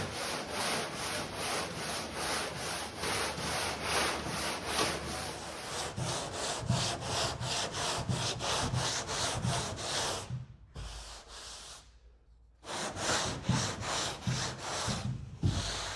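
Sustained rhythmic sanding on the wooden deck edge of a kayak being prepared for fiberglass, steady back-and-forth strokes close and loud, with a brief quieter pause near the end before strokes resume.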